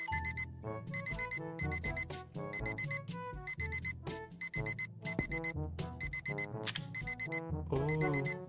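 A phone alarm in a zombie video game keeps ringing in a repeating electronic melody of bright beeps, steady and fairly faint, with occasional thuds and a little talk underneath.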